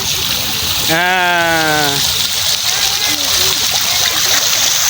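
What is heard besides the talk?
waterfall splashing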